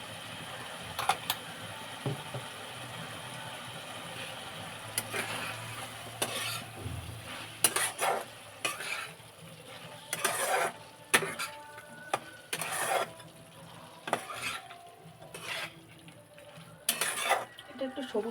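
Fritters (bora) frying in a pan give a soft, steady sizzle, broken by frequent scraping and clinking as a utensil stirs them, with a voice speaking intermittently.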